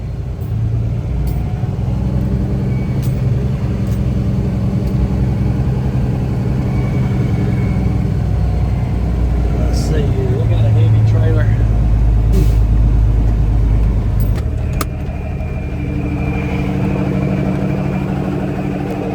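Diesel engine of an old Peterbilt 359 truck rumbling as it moves off, a steady low drone swelling briefly louder partway through with hiss and clicks, while someone talks over it.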